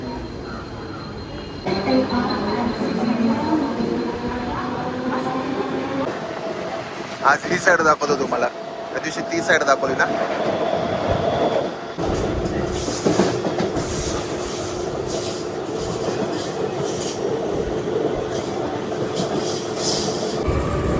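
A Kasara-bound local commuter train rumbles along with rhythmic wheel clatter and occasional squeals, while someone talks close by over the steady noise.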